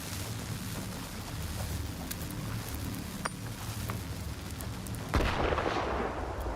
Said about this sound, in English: I wonder if a grenade will help.